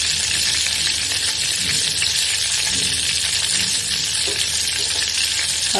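Ginger garlic paste fries in a pan with a loud, even hiss and sizzle, close up and continuous, with faint stirring scrapes underneath and no speech.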